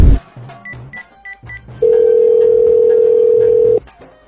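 A telephone dial tone rings out loud and steady for about two seconds after a few short beeps of dialing, as someone places a call home during a Durga Puja comedy sketch.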